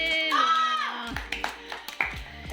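Scattered claps follow a loud shout at a prize announcement during a noodle-eating challenge game, a few sharp hand claps mixed with excited voices.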